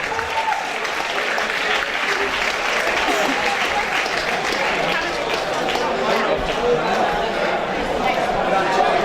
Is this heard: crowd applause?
yes